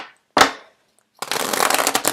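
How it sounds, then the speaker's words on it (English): Tarot cards are handled: a single sharp card slap, a brief pause, then a close, crisp riffle-shuffle that rattles on steadily to the end, with no voice. "The cards are not shuffling too well."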